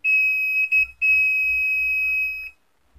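A multimeter's continuity tester beeping while probing a short on the LED board of a Polytron PLD50B870/W TV, one loud, steady high-pitched tone broken by short gaps and then stopping, close-up with no voices.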